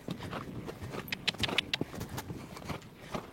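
Horse hooves clip-clop in a steady rhythm during a riding lesson on a horse slow to respond to the leg, the footfalls fairly close amid arena noise and faint breath, with a brief burst of brighter clicks in the middle.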